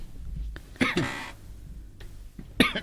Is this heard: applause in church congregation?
no